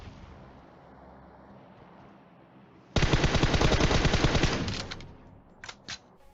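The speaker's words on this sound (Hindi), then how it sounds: "अब M4 मिली है और 6x भी मिला है, तो चलाना तो पड़ेगा।" An M4 assault rifle fired in PUBG Mobile, a loud close burst of rapid automatic shots lasting about two seconds after a quiet hum, followed by a couple of brief sharp sounds.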